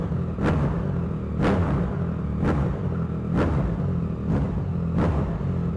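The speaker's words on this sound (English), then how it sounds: "Let's just give it small revs." Yamaha MT-09 SP with a Blackwidow exhaust gets short throttle blips in a garage, five evenly spaced revs rising sharply above a loud, steady idle.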